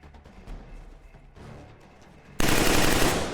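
Rapid gunfire in the video game Killzone 3, quieter scattered shots at first, then a sudden loud sustained burst of automatic fire filling the last second.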